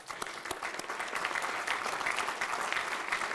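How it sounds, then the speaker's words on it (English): Steady audience applause at an athletics hall of fame banquet, dense and continuous, moderately distant and filling the whole moment. "Let's give them a round of applause."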